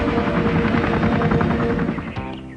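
Attack helicopters in the Toxic Crusaders cartoon thump with a fast, loud rotor chop that drops in level near the end as other tones cut in.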